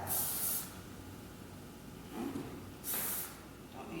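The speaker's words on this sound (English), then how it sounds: "you always have hairspray, and you know this is old-fashioned hairspray, but it's the best" Old-fashioned hairspray hisses from an aerosol can onto hair being shaped into a ballet bun, two short close sprays separated by a pause.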